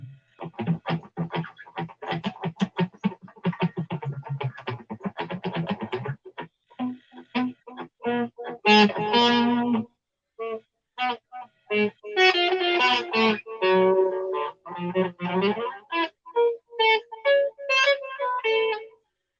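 An electric guitar played through an effects unit, phrases of picked notes with distortion and modulation, stopping and starting in short bursts, close and loud.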